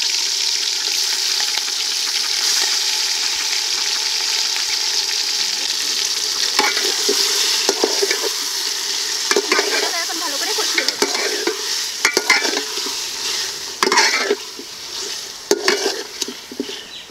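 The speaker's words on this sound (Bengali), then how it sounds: "ম্যারিনেট করা মাংসটাকে এখন দিয়ে দেবো।" Marinated desi chicken meat sizzles loudly in hot oil with whole garam masala and a bay leaf, a steady frying hiss broken by repeated scraping stir strokes in the pan, with no voices.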